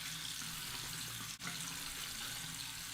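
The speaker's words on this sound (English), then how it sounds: "now I'll wet my face with some hot water" Hot water runs steadily from a tap into a sink before a shave, a constant close hiss and splash with one brief break partway through.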